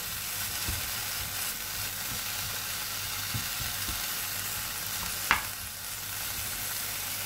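Smoked ham frying on medium heat in a pan, a constant close sizzle with a few soft stirring knocks and one sharp clatter near the end, no voices.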